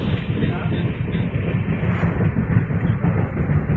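A train on the Konkan coastal railway line makes a continuous low rumble, with wind buffeting the microphone throughout.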